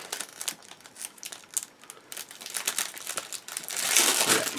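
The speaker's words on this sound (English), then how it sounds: "We have a large bag of sort of polycaps. Is it a resealable one?" A plastic bag of model kit polycaps for a Takom 1/35 Leopard C2 Mexas tank kit is handled close up, with bursts of sharp crinkling and rustling that get louder toward the end.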